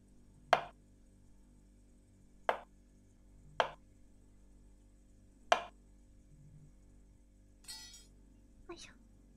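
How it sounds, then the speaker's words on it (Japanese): A kitchen knife chops through an apple in four sharp, evenly spaced cuts close by, followed by a couple of softer handling noises. "包丁を持ちまして、リンゴを添えたいと思います"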